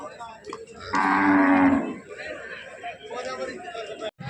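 Cattle lowing at the Mallepalli Sunday livestock market, one loud, long moo close by amid the steady murmur of a crowd and people talking.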